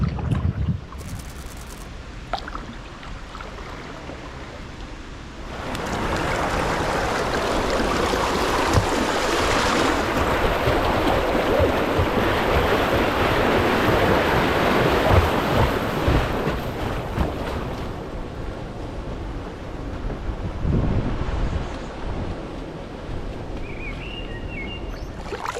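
A canoe rushes down the churning water of a fish pass beside a lock on the River Medway canoe trail, a loud, steady roar of turbulent water and wind buffeting lasting most of the clip, no talking.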